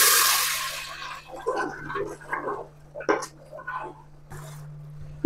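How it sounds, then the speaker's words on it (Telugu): Water poured into a pan of fried moong dal for a white sorrel curry: a loud rushing splash at the start, then softer bubbling and shifting sounds with a voice speaking faintly. "ఇప్పుడు వాటర్ వేద్దాం."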